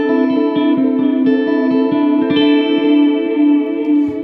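Electric guitar run through a lo-fi delay pedal, picked notes ringing out clearly while the echoing repeats pile up and grow duller and more degraded, like an AM radio, with no voices.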